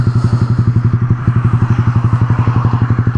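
Yamaha R15 V3 motorcycle fitted with a Daytona exhaust, its engine running loud and close in a steady, rapid pulsing drone with a rough, crackling edge, held at high speed throughout without any voices.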